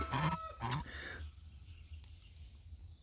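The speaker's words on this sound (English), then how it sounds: "It's just kind of how it goes when you have an African goose running around your property." An African goose honks twice, loud and close, harsh nasal calls in quick succession, then fades to quiet outdoor ambience with faint insect hum on a garden property.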